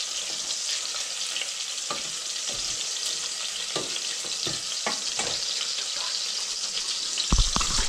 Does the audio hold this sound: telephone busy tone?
no